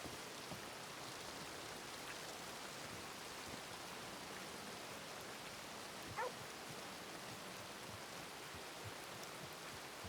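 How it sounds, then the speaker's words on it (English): Rain falls steadily in a Wild West roleplay video game, a soft, even hiss of wide noise that continues throughout at low level with no talk. "Why does it rain every single time I step out of here?"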